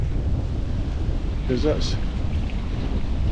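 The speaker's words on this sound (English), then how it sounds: "fairly hefty waves now" Hefty waves break on a shore near a Moray wild camp, with wind buffeting the microphone in a constant low roar; a voice speaks briefly partway through.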